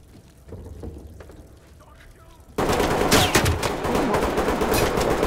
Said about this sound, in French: Couvert, ça tire d'où? Ça tire d'où?